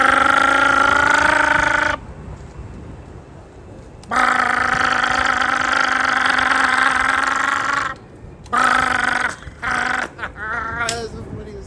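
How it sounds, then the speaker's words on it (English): Motorcycle engine noise played from a loudspeaker on a scooter: a buzzing, droning tone in several long bursts separated by short silences, ending in choppy fragments. "a speaker playing like motorcycle sounds while you on the scooter"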